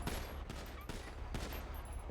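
Rapid video game gunfire in a police roleplay shooter, dense crackling bursts with sharp separate shots at regular intervals, loud and continuous across the whole stretch.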